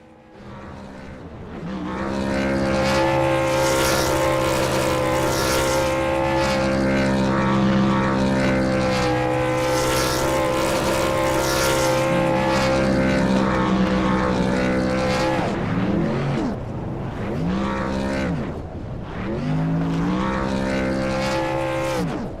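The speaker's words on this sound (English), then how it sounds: "Burnouts in the books." Race trucks from the Spark Truck Series at Auto Club do burnouts. Loud, sustained engine roar rises and holds for many seconds, then drops into a few revving surges toward the end. No voices.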